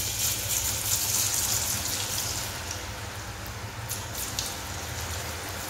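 Ragi ribbon pakoda dough frying in hot oil over a medium flame, a steady, dense sizzle and bubbling that stays constant throughout with no voices.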